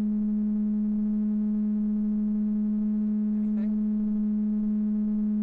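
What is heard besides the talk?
musical tones from pipes at highway speed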